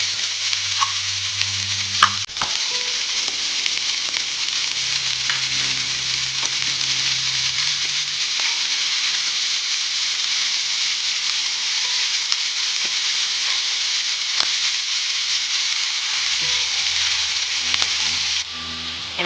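Onion fries in oil in a pan for a wild vegetable bhaji, a continuous loud hissing sizzle held steady throughout, close up, with occasional light knocks of a stirring spoon and a low hum in the background.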